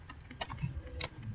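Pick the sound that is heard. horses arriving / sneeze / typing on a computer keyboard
typing on a computer keyboard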